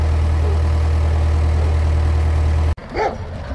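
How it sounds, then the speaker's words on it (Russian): A dog gives a single short bark right after a loud, steady idling engine drone cuts out, the bark fairly close in a quieter outdoor space. "Какая собачана."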